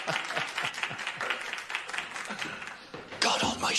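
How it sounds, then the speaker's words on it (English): Audience applause at a church raffle, a broad wash of clapping that rises and swells louder near the end, with some voices mixed in. "let's have a big round of applause for our very own Father Dougal McGuire."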